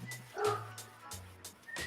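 A dog gives a run of short yips and whimpering barks, a few close, spaced bursts over low humming background.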